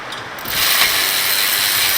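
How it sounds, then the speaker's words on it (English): A 7mm Allen socket on a ratchet works loose the front brake caliper slide bolts on a Ford Fusion, giving a loud, close, continuous grinding rattle that builds within the first half second and holds steady. "Take your slide bolts off."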